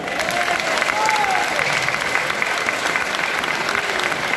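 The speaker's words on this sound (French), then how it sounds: "Je vais vous applaudir." Large gathering of association delegates applauding, a loud, continuous wall of clapping with a faint cheer or voice rising over it, steady throughout.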